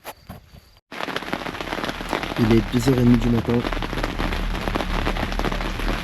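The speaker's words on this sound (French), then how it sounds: "On est sous un orage battant qui est juste au-dessus de nous." Heavy, steady rain pounds down during a night thunderstorm at a carp fishing camp in Italy, loud and continuous, with someone speaking briefly over the downpour.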